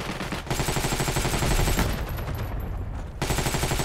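Rapid rifle and automatic gunfire from the Heroes & Generals game, including a Gewehr rifle, sounds as dense, near bursts of shots that pause briefly before firing resumes.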